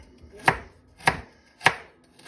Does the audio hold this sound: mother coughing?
no